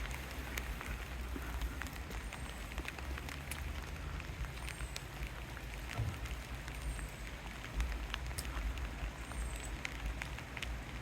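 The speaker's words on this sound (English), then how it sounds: "it's still raining out here at the back." Steady rain falls outdoors behind a railway station by an old goods yard, a faint, even hiss with scattered drip ticks throughout.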